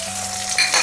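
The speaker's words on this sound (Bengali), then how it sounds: "টমেটোটা একটু ভেজে নিই" Tomato fries in a pan for a home-style doi katla curry, giving a short burst of loud, close, continuous sizzling.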